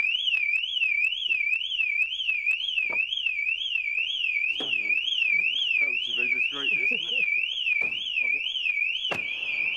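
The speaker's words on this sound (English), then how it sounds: "You set the car alarm off." Car alarm wailing continuously at close range, a loud rising-and-falling siren tone that runs the whole time, with people talking and door knocks underneath, during a police search at a home.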